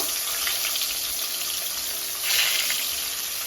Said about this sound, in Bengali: তো এক এক করে মাছগুলো ভাজতে দিয়ে দেবো